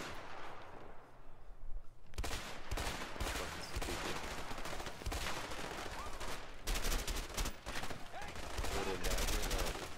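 Dense gunfire in the video game A Way Out, rapid bursts of shots crackling loudly and almost continuously after a quieter opening, with a short pause partway through before the firing resumes.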